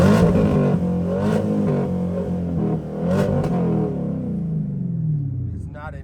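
A Camaro SS V8 engine revs hard in park past its rev limiter, roaring loud and close with rising and falling sweeps before winding down at the end.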